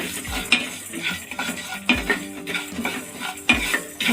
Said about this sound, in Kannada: ಇದು ಸ್ವಲ್ಪ ಚೆನ್ನಾಗಿ ಫ್ರೈ ಆಗಬೇಕು